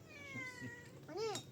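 A house cat meows close by in a quiet home, one rising-falling meow after softer vocal sounds, with faint dish clinks in the background.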